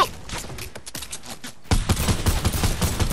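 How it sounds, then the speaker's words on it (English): Rapid bursts of automatic gunfire in the Fortnite battle royale game crackle loudly from about halfway through, each shot a sharp punchy hit in a fast irregular fusillade after a quieter stretch of softer game sounds. "I'm getting shot at"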